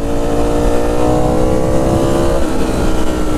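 A Ducati Streetfighter V4 S motorcycle fitted with an SC Project titanium exhaust revs hard, a loud, close, continuous deep engine roar without pauses.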